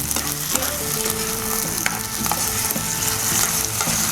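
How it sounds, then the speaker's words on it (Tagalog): Chicken frying and being stirred in a pan for Filipino pancit bihon noodles, a steady close sizzle with scraping stirs throughout, no talking. "Mix it all together until the chicken is ready, so that the meat will cook."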